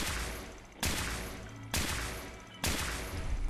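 Four loud, sharp gunshots from a firearm in the video game Fallout 4 ring out at a slow, roughly even pace, each followed by a decaying echo.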